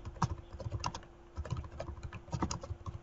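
Typing on a computer keyboard nearby, with quick irregular bursts of key clicks and short pauses in a quiet room.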